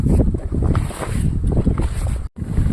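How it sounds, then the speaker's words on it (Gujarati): A strong wind blows across an open farm field and roars loudly into the microphone in continuous buffeting gusts, broken by a brief dropout near the end. "બરાબરનો પવન ઉડવાનું ચાલુ થયો છે"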